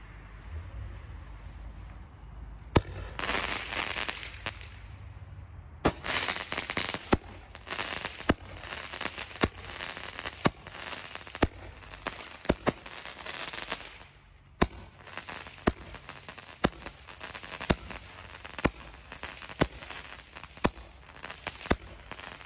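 A Mosaic Roman candle firework fires a long string of sharp shots with a crackling, popping rhythm, heard outdoors from nearby over wind noise.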